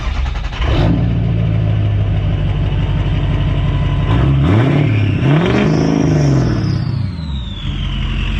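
A truck fitted with a 6.0 Powerstroke diesel engine runs loud and close, its steady roar broken by several rising and falling revs, with a whistling whine climbing near the end.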